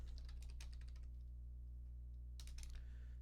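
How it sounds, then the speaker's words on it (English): Quick bursts of computer keyboard typing, clicky keystrokes in two clusters with a pause between, close and fairly quiet over a steady low hum. "You're welcome for the loud keyboard strokes, by the way."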